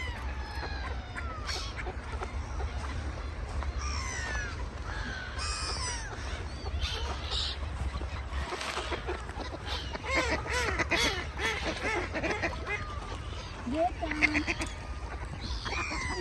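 Ducks quacking at a snowy pond, mixed with crow caws and other bird calls over a steady low outdoor rumble, the calls scattered and moderately distant.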